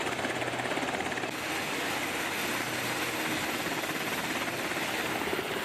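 Military helicopters lift off from a base, their rotors and engines producing a steady, loud, dense roar with a fast chopping pulse that holds throughout without any voices.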